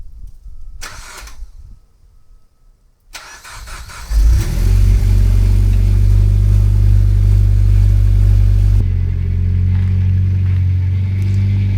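A Kawasaki Ninja 400 motorcycle cranks after a battery swap and catches, then settles into a loud, close, steady idle with a deep rumble that eases slightly near the end.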